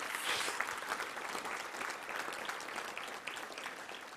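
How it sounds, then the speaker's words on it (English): A room of Touchdown Club guests gives a warm round of applause for the volunteer team, sustained close clapping that stays full and even throughout without fading. "let's give our Touchdown Club volunteer team a big round of applause"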